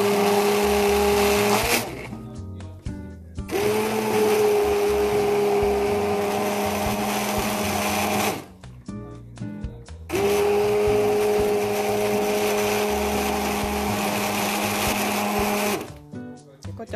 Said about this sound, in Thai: แล้วก็จะปั่นน้ำเขียวๆมันจะได้ออกน้ำเขียวๆมันจะได้ออกเนาะ